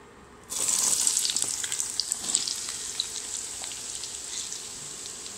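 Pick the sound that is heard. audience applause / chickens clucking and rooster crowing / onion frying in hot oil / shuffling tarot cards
onion frying in hot oil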